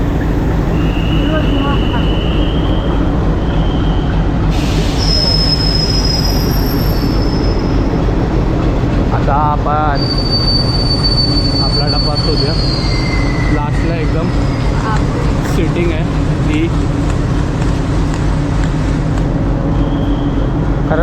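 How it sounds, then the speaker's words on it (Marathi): A Konkan Railway train pulls into a platform at CSMT station in Mumbai, with a loud, continuous rolling rumble of wheels and repeated high metallic squeals; a voice speaks briefly over it. "गाडी प्लॅटफॉर्मला लागले"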